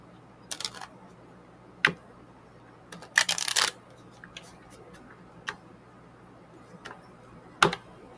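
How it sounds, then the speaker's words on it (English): Tarot cards being shuffled by hand in a quiet room, heard as a few brief, crisp riffles and flutters spread out with soft pauses between them. "Also, I'm shuffling."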